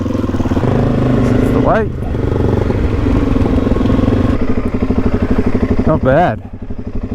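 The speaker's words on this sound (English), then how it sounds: "Bike fired up like a champion" A motorcycle engine runs close by with a steady throbbing idle and a couple of brief revs, while someone talks over it.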